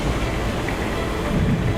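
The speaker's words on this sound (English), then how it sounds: "Lightning flashes to the west, followed by rapturous thunder" Thunder in a video game storm at sea, heard as a continuous heavy rumble mixed with rain and wind noise, loud and enveloping with no distinct separate claps.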